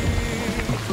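Steady rain pours down in a continuous, even wash of noise, fairly close, with no voices over it.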